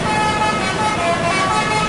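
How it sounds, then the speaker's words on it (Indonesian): Bus terminal ambience at Terminal Baret Solok, with buses arriving and departing for Jakarta: a steady engine drone and traffic rumble, plus faint horn tones, continuous and fairly loud throughout. "Kita berada di Terminal Baret Solok, memantau keberangkatan dan kedatangan bus dari dan ke Jakarta."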